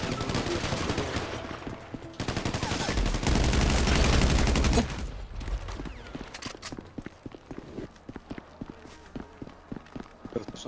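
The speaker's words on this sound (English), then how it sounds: "Somebody was just shooting at me." Gunfire in GTA Online during a motorcycle club clash in Los Santos: a dense, loud barrage of rapid shots for several seconds, then scattered sharp cracks and clicks as the shooting thins out.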